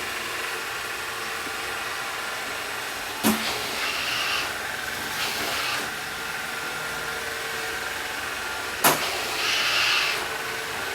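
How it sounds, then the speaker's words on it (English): Chuwi ILIFE V7 robot vacuum cleaner running indoors, a steady close whirring hiss throughout, broken by two sharp bumps and brief brushing surges as it moves. "Keep this vacuum running"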